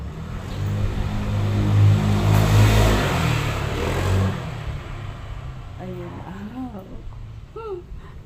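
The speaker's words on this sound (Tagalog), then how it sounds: "Dumaan lang yung motor." A motorcycle engine passes close by, swelling loud and droning for a few seconds before fading away, after which a person starts talking.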